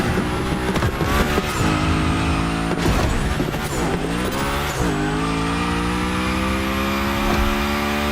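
A car slides and drifts in the racing game The Crew Motorfest, with sustained loud tire squeal over a droning engine whose pitch rises and falls through the turns, continuous and close with no talking.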